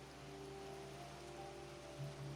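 Steady rain falling in Minecraft with the Clovercraft modpack, a soft even hiss holding at one level throughout, faint and close, with a low background hum under it.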